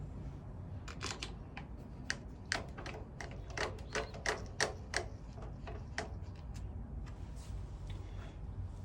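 Screws being started into the oil-change area of a 1986 Honda CT110 motorcycle, a run of small close metallic ticks and clicks in an irregular rhythm, steady and fairly quiet, with no talking.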